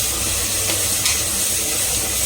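Ground onion paste frying for mutton biryani, a dense, continuous loud hiss and sizzle held steady throughout, close up with no distinct strokes or voices.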